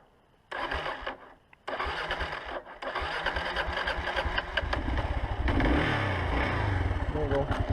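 A motorcycle engine starts and settles into a loud idle, then revs up under the throttle with a rising, rough rumble close by. Brief pauses come early on.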